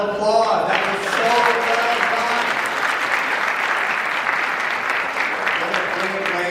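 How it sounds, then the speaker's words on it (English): A crowd applauds steadily at a Songkran Thingyan program, the dense clapping loud and sustained, with a voice talking over it near the start. "Let's give them one more round of applause."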